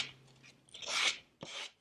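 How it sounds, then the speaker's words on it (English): A sanding block with 220-grit paper rocks back and forth over wooden furniture stretchers and rails, giving two or three short, close, raspy scrubbing strokes. "what I'm doing with the sanding block right now is I'm rocking back and forth"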